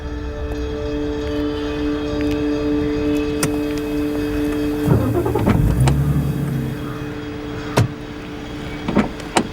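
A car sits idling at a steady hum, then revs with a rising engine surge near the middle before settling, with a few thuds like doors closing toward the end.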